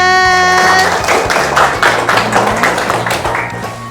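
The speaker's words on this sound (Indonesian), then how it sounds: "Baik, tepuk tangan." Elementary school children clap together in a classroom, a loud close burst of irregular hand claps that tapers off, with a sustained tone ringing under it.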